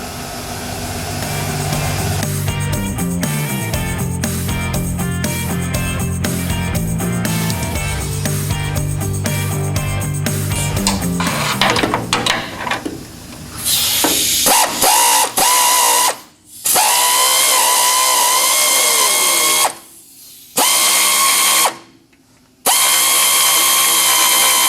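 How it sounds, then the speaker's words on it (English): Air ratchet loosening a stubborn bolt on a 1968 Pontiac Firebird, a loud, close pneumatic whir with rapid hammering pulses, then higher-pitched spinning bursts broken by short silences as the bolt frees. "I'm going to hit it with the air ratchet and see if it'll come out"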